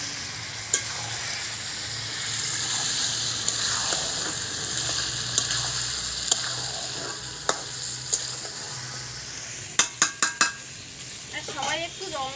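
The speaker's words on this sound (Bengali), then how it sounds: "এবার আমি মাংসটা দিয়ে দেব।" Meat dropped into oil-released spice paste for a picnic-style curry: steady sizzling and frying with spoon scrapes and sharp clinks against the pan, a voice faintly under it.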